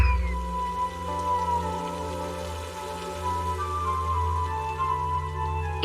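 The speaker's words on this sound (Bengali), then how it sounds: "বাইরে তো বৃষ্টি পড়ছে গো" Steady rain pours outside through the whole stretch, a dense even patter on surfaces that stays close and constant with no talk over it.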